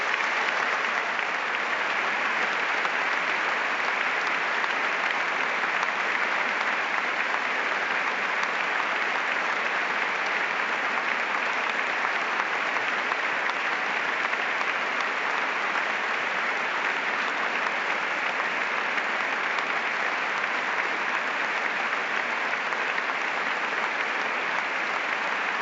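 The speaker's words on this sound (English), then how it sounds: "A minute's applause for Jack McGinn." Celtic supporters at a football match give a minute's applause for Jack McGinn, a steady wall of distant clapping from a large stadium crowd that stays even and unbroken throughout.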